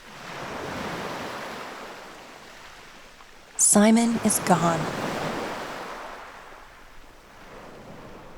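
Sea waves wash in the dark of midnight with a soft, steady surf and a windy hiss underneath. A voice briefly speaks over the water.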